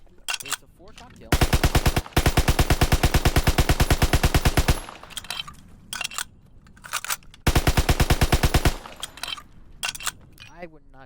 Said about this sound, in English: Yep, M3 grease gun.